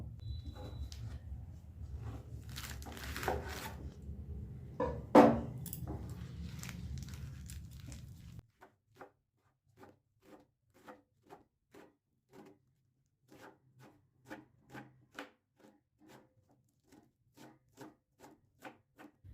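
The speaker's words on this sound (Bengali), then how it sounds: "শাকটা এবার ছোট ছোট টুকরো করে কেটে নেব।" A knife chops a handful of spinach leaves into small pieces on a board, first with rustling and rubbing of the leaves, then a long run of crisp, evenly spaced taps close by.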